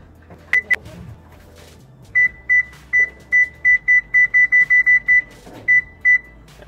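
Whirlpool oven control panel beeping while the clock is set, a string of short electronic beeps, a few early then a rapid regular run of about a dozen, loud and close amid faint button clicks.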